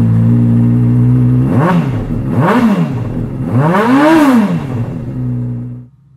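A 2012 Honda CBR600RR sport bike's engine idles steadily, then gets three sharp throttle blips, the last one longer and higher. Loud and close, with no talking, before it cuts off at the end.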